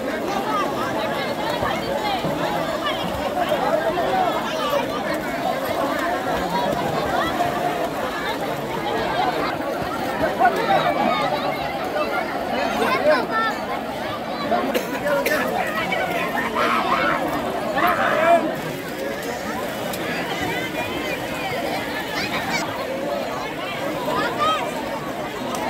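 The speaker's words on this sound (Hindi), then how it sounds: "आज विभिन्न गंगा घाटों पर श्रद्धालुओं की भारी भीड़ जमा है" A large crowd of devotees gathered at the Ganga ghats in Munger on Guru Purnima, a steady dense murmur of many voices and distant hubbub running throughout at an even, moderate level.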